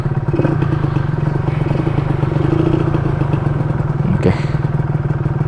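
A Yamaha RXZ motorcycle with a carburettor and standard exhaust runs steadily close by, its two-stroke engine droning with a brief clattering blip near the end. A short spoken word is heard over it.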